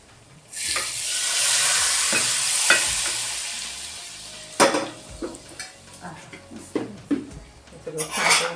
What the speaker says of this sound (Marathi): आता हा तडका आपण जो काही आहे तो सगळ्या या भाजीवर घालूया